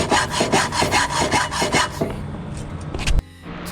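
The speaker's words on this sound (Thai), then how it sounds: "ตัดเรียบร้อยครับ เออตะไบเก็บคมเรียบร้อย" A hand file rasps along the cut edge of an aluminium air intake pipe for a Toyota Liteace KM36 with a 5K engine, with about eight steady rhythmic strokes up close, then a looser scraping and a clunk at the end.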